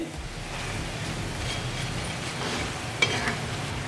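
Wheat-flour namak pare snacks frying in moderately hot oil, a dense, even hiss and bubbling that holds steady throughout, with one small clack near the end and no voices.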